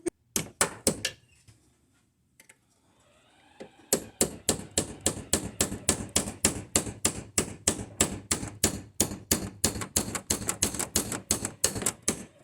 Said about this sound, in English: I just stick this bad boy in the vise and I use a punch